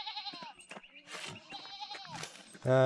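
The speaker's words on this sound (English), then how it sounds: "And these sheep are blocking our way, apparently." Sheep in the medieval Bavarian Alps village of the video game Pentiment bleat several times in a wavering chorus, the calls overlapping at moderate loudness, ending with one louder close bleat.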